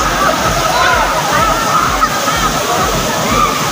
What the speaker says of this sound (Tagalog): Ganda ng falls, lakas.